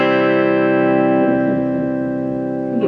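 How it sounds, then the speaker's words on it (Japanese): A Yamaha silent guitar, hollow-framed acoustic-style, rings out through a small Fly 3 amplifier: a strummed chord sustains loud and steady, then a couple of softer follow-up strums with echoing effect near the end, no talking. "ではアンプにね、つないで鳴らしてみましょうかね"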